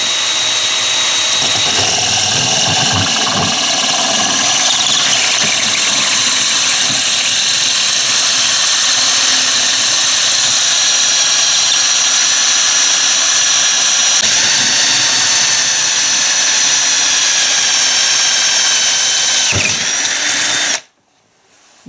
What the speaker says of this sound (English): I start my drill bit and I angle it